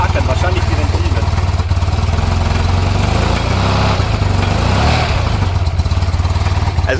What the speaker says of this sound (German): man hört es, dieses Klackern, wahrscheinlich die Ventile